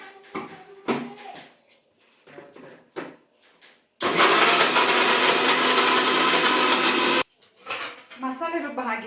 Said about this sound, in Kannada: ಹಾಗೆ ಸ್ವಲ್ಪ ನೀರು ಹಾಕಿ ರುಬ್ಕೊಂಡ್ಬಿಡೋಣ ಮಸಾಲೆನ.